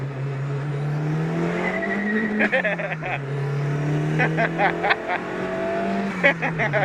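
A turbocharged 200+ hp Suzuki Swift GTi engine revs up repeatedly in rising pulls broken by gear changes, loud and close from inside the cabin, with voices talking over it.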